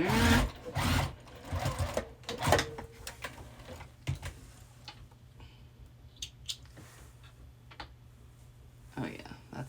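A sewing machine stitches a wallet made from tea bags in quick bursts of rapid mechanical chatter, with pauses between runs, close to the microphone, followed by quieter handling clicks.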